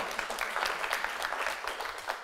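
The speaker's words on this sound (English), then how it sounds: "Can you join me in a round of applause for our first guest speaker, Tristan White of The Physio Co." An audience applauds a guest speaker at a business Q&A event, a steady patter of many hands clapping at moderate volume with no one talking.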